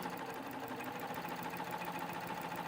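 Serger sewing machine running steadily as it stitches the fabric edge and finishes the last threads, a continuous close mechanical whir with fine rapid stitching texture, no talking.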